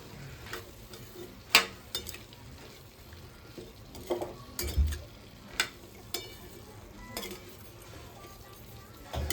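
A spoon stirs and mixes food in a pan on a home stove, with scattered scraping clinks against the metal over a faint sizzle, close and fairly quiet, no voices.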